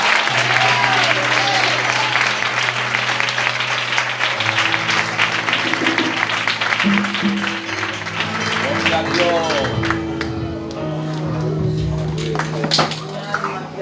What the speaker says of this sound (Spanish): Un aplauso para Cristo